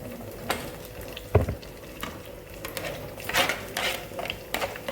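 Green chillies and curry leaves frying in hot oil in a pan while poha upma is made, a steady crackling sizzle with occasional stirring clatter and spoon knocks, close and fairly loud throughout.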